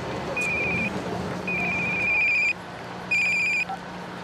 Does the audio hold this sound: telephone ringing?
yes